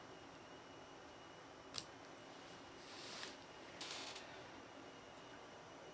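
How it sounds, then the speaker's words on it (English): Scissors cut through fabric while a church vestment is being made, with one sharp snip followed by two longer soft slicing passes, close and quiet in a still room. "I really need my other scissors for this. I'm always afraid of cutting the other fabric"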